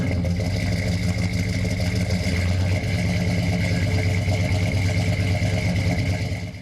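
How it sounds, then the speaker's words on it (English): A classic GM convertible at a Carlisle GM Nationals show with a freshly installed loud exhaust system rumbles steadily in a deep, throaty idle with slight revving, close and continuous throughout before fading at the very end. "I just put new exhaust system on, which is extremely loud and extremely good."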